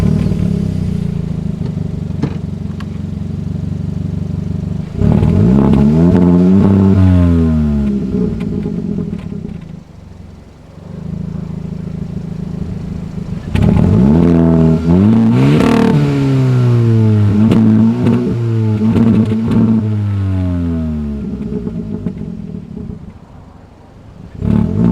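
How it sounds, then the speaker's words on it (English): A 2021 Hyundai Elantra N-Line engine idles with a steady rumble, then revs sharply twice in close, loud bursts of rising and falling pitch before settling back to idle. "Now let me start it up for you so you can hear it"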